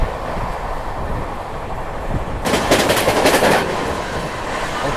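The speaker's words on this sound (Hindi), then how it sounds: "और ये मेरे ख्याल से संगम एक्सप्रेस इसको ओवरटेक कर रहे हैं हम" Rumble of an Indian express train running at speed while overtaking another express on a parallel track, with a dense burst of rapid clattering and whooshing in the middle as the passing train rushes by close at hand.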